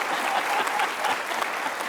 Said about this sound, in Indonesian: Waduh, harus dikasih tepuk tangan gitu.